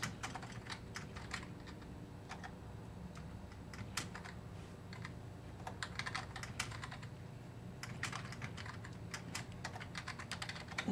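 Steady typing on a computer keyboard, quick irregular key clicks close by, continuing throughout with no talking.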